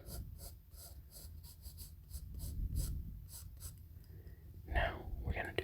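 Pen strokes scratch across paper while drawing a line through a Pokéball design, a series of short, close rasping strokes in a quiet room, followed by softer scribbles near the end.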